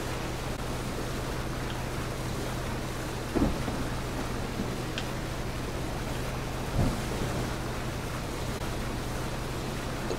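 Steady rain pours throughout a video game thunderstorm, with two dull thunder booms cracking in at about a third and two thirds of the way through; no voices.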